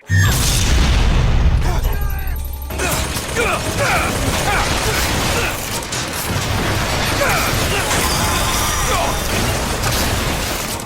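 RPG rocket launches and explosions in the 2013 first-person shooter Bioshock Infinite, played on PS5: loud, dense booms and mechanical rattles bursting one after another, close and continuous under a talking voice.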